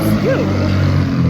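A passing car with a loud, rumbling muffler on a hilly road, its steady low engine drone filling the background while someone breathes heavily nearby.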